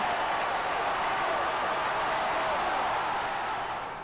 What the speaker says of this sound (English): listen to that mighty cheer here in Toronto